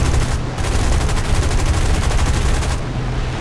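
A P-36C Hawk fires its aircraft machine guns in the video game War Thunder. The bursts are loud and sustained, a continuous rapid rattle that pauses briefly near the end.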